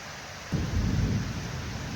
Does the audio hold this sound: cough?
no